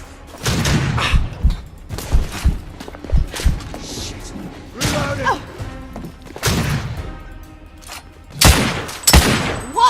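Gunfire from shotguns and other weapons in the video game The Order: 1886, heavy blasts that fire again and again at close range, with thuds and crashes between them and bits of shouting.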